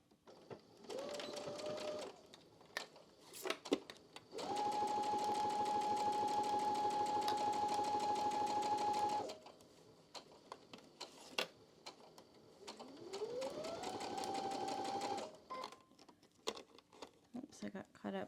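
A sewing machine stitches a quilt block seam and back-stitches to lock it, heard as several short whirring bursts, one long steady run in the middle and a rising spin-up near the end, with small clicks in between.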